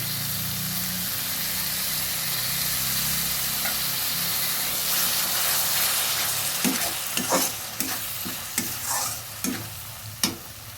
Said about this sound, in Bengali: মশলাগুলো ভাজা হয়েছে এবার দিয়ে দিচ্ছি টমেটো পেস্ট